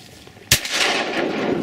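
A single loud shotgun blast rings out at a pond during a duck hunt, sharp and close, followed by a lingering wash of outdoor noise.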